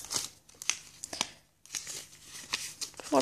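Sticky tape torn off a Pokemon trading card pack, with a few sharp ripping and crinkling bursts at close range and a voice talking around them.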